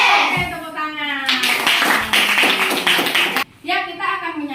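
A fifth-grade classroom of students claps hands together in a brisk burst, with children's chanting voices before and after the clapping.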